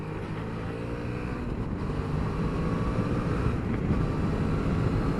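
A 2021 Suzuki DL650XT V-Strom motorcycle pulls away in second gear from a roundabout, its engine note rising steadily and loud beneath heavy wind rush, with no talk.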